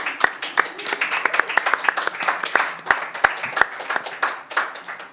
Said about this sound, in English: this was a big round of applause here from our journalists.